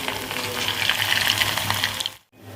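Small pieces of leftover idli fry in a little oil, making a close, steady bubbling sizzle that cuts off abruptly near the end.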